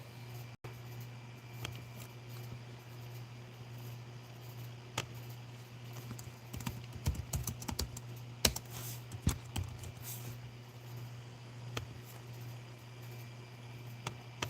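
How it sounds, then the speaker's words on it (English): Address details being typed on a computer keyboard, a steady patter of light key clicks with occasional heavier taps over a constant low hum, close and quiet, with no speech. "Got to type in all this address info."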